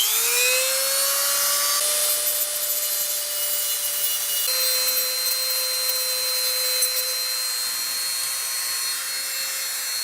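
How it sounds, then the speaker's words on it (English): A Dremel rotary tool grinds off part of an SKS rifle, a loud, steady high-pitched whine that holds constant for the whole stretch, its pitch stepping slightly as load changes, with no talk. "Got my Dremel tool here, and I'm gonna just grind that baby right off."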